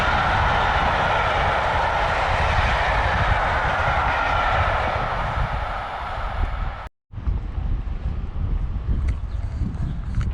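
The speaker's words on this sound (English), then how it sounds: "random footage of a steam train" A steam train rumbles past nearby on the North Wales coast with a steady, loud roar and rhythmic chugging, then a brief cut to quieter rolling noise.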